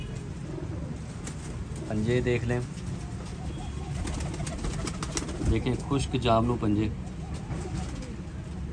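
A domestic show pigeon coos in a few soft, repeated bursts, close by, while someone talks over steady background noise.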